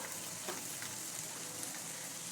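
Spices with curry leaves, garam masala and turmeric fry in hot oil as a tempering for Khandeshi-style black urad dal, giving a faint, steady sizzle with a few soft pops.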